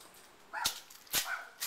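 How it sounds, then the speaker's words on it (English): Small dogs next door to a house with a little backyard give two or three short, sharp yips and barks, fairly faint and some distance away, over quiet outdoor air. "Little dogs next door."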